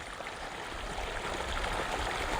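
Irrigation water is let into a farm field, a steady, close rushing and gurgling flow that continues evenly throughout with no voices over it.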